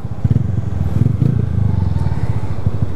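A Honda CG Fan motorcycle with a faulty carburetor that keeps stalling idles up close, its single-cylinder engine thumping in a steady, slightly uneven putter with light mechanical clatter, loud and alone without talking.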